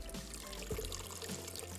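Roughly a quarter cup of water poured into a pan of freshly made cooking spice mixture on a stove, a steady soft pouring and splashing over a low kitchen hum.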